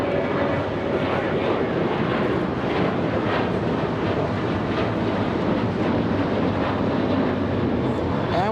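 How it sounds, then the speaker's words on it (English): An American Airlines Boeing 787 Dreamliner inbound from Miami passes near LAX, its steady engine roar continuous and fairly loud, with wind noise over the microphone. "American Airlines. 787 Dreamliner, let's take a look."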